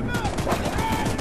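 Gun in Choo-Choo Charles firing in a fast, dense stream of shots, blended into a busy game mix with whistling tones and other noise throughout.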